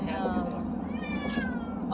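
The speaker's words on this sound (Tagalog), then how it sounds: "Hey, Wally, stop crying. You are crying" A cat crying and meowing while being carried to another town for vaccination, its strained, drawn-out meows rising over a steady travel rumble.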